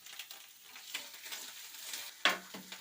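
Garlic paste and chopped green chilli fry quietly in a pan for potol chop filling, a soft low hiss broken by faint stirring scrapes and one sharper utensil knock near the end, with no voices.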